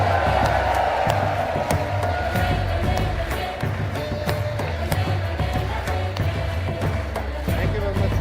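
Large outdoor crowd at a Save Soil movement rally in Sulur, clapping and cheering continuously with whoops and a loud, dense wash of voices throughout.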